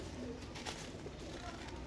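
A pet pigeon coos softly and steadily against a constant background hiss, with low murmuring calls spread across the short stretch.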